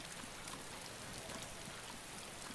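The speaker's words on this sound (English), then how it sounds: "I can only hear the rain." Rain pours down outdoors beside a road after dark, a constant faint patter and hiss holding level throughout, with nobody speaking.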